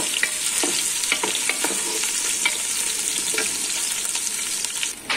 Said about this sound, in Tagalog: Nagigisa na tayo ng ating sibuyas.